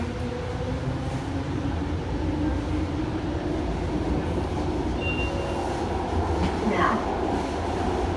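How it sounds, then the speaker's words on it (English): VTA light rail train rolling along the tracks, a steady close rumble of wheels and car body with faint squeals, while a voice briefly speaks over it. "The train is finally moving."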